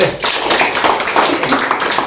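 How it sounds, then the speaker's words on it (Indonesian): Applause from a seated audience at an Indonesian motivation and teamwork meeting, a dense burst of hand claps filling the room, close and fairly loud, with voices mixed in. "Ya, tepuk tangan"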